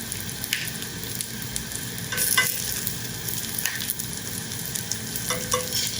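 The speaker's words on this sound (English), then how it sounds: "we're going to brown all of our meatballs" Meatballs brown in a hot pan with a steady, close sizzle and crackle, broken by occasional sharper spits and the scrape of stirring.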